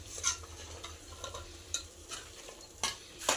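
Mutton and vegetable curry in a home kitchen pot, stirred with a spoon: faint sizzling underneath, soft scrapes and a few sharp metallic clinks of utensil against pot, fairly quiet and with no talking.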